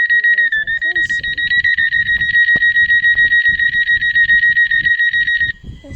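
Door closing alarm on a Metro class 398 train in the Roblox game Stepford County Railway: a loud, steady, rapidly pulsing electronic beeping runs unbroken for about five seconds and then cuts off, with people talking quietly underneath.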